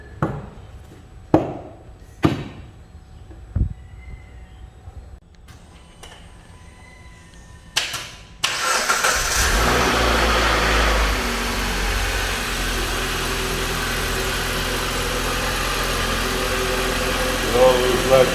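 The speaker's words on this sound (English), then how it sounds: "Turn the key, first time, start" A Jeep Compass engine is started with a key and settles into a steady idle. A few sharp clicks and knocks come first, then the engine cranks, catches and holds a constant hum.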